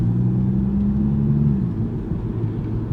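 BMW 228i Gran Coupe driving with a bent front right wheel, a low steady grinding rumble and droning whir heard from inside the car, continuous and moderately loud.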